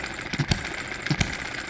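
A hit-and-miss stationary engine running, with a steady mechanical hum punctuated by paired sharp firing thumps recurring about every 0.7 seconds, close and fairly loud.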